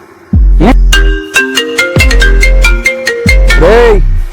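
A loud melodic phone ringtone plays a bright, repeating chime pattern of stepped tones with a warbling flourish near the end, heard alone.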